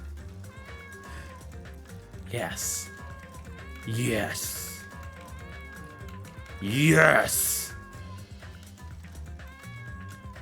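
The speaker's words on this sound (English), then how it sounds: "Pet the kitty." A cat in a video game meows when petted, three drawn-out mewing calls rising over steady game music and background sound, with a person talking alongside.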